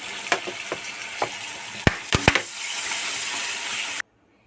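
Water poured into a hot frying pan while cooking a small-fish sukto, a few sharp clinks and taps giving way to a loud, steady sizzling hiss that stops abruptly.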